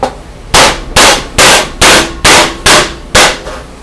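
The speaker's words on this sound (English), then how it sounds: "And tap it with a hammer" A hammer strikes the end of a screwdriver seven times in an even rhythm, each a sharp, loud, close metallic tap with a brief ring, separated by quiet pauses.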